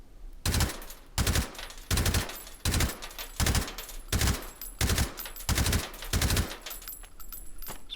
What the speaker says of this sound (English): Sounds like the Malyuk had a much higher rate of fire